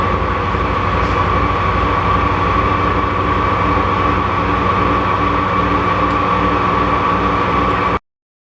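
A high-speed carbide bit grinding the edges of sewer drain cleaning equipment, a steady, loud, continuous whine and rumble with no break until it stops abruptly near the end.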